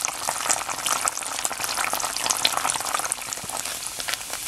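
Latik, coconut milk curds, frying in a pan, giving a steady dense sizzle and crackle of bubbling oil throughout, close and even in loudness, with no talking.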